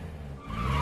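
A movie car skids with squealing tires, the engine noise swelling toward the end as a large truck rams it from the side; one short, loud burst with no voices.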